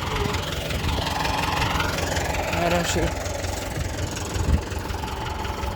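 A tractor's diesel engine idles with a steady low rumble throughout, just after mowing a pasture, while someone talks over it.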